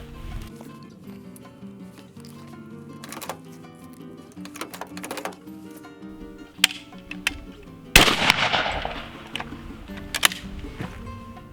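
A shotgun fires a reloaded shell, one sharp, loud blast standing out after a stretch of quieter talk; voices continue around it.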